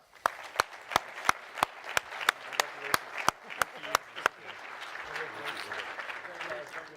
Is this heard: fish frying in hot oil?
no